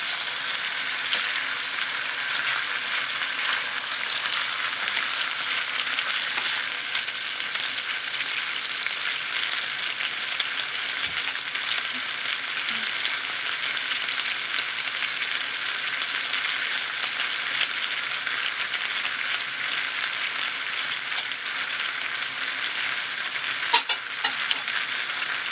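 Yellowtail fish pieces frying in teriyaki sauce in a pan, a loud, steady close sizzle that hisses on without pause, with only a few faint clinks.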